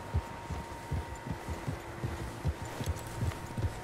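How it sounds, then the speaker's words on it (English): Several horses' hooves thud in a steady, rhythmic clip-clop under a low hum in the Red Dead Redemption 2 video game, fairly quiet and with no one speaking. "Horses, quite a few of them."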